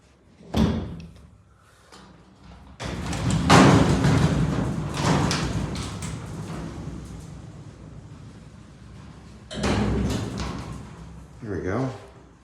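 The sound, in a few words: heavy freight elevator door being shut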